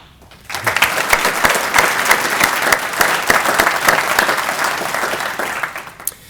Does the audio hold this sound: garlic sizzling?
no